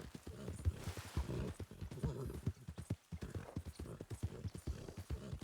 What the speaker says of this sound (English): Oh, look at this beautiful horsey.